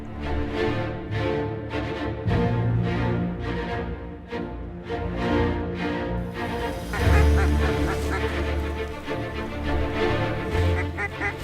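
Many geese honk and call repeatedly in a dense, overlapping chorus at a northern hunting spot, loud and close at first, with the flock's clamor swelling and thickening toward the end.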